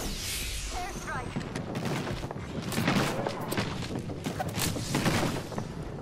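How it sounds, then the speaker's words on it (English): Airstrike explosions and gunfire in a battle royale video game, a dense, continuous barrage of booms and rapid shots sustained near and loud throughout. "Contact with target. Airstrike."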